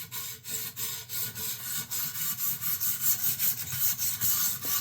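Knife blade stroked repeatedly along a 400 grit stone on a Xarilk Pro precision sharpener, a steady rhythmic gritty rasping of about ten strokes, close and clear with no talk.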